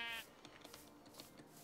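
Sheep in the TerraFirmaCraft game give one short, faint bleat at the very start, followed by quiet ambient game sound.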